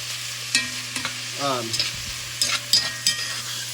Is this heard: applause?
no